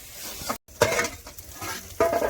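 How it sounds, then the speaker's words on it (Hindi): Snail masala is stirred and fried in a pan, with short bursts of scraping and sizzling and a couple of sharp utensil knocks against the pan, heard close up. "मसाला डाल दिए हैं और इसको अच्छी तरह से भून दे रहे हैं"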